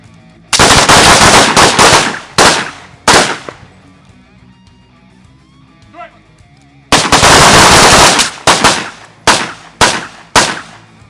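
Loud close gunfire rings out during rifle and pistol transition drills: a long rapid string of rifle shots, a few single shots, a pause, then another fast burst and several spaced single shots.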